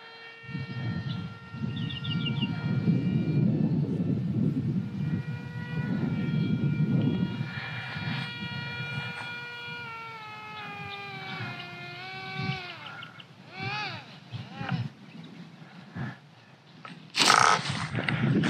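A ZOHD Alpha Strike RC plane on its maiden flight comes in to land, its electric motor whining with steady tones that fall in pitch as it throttles back and passes, heard close outdoors with wind noise.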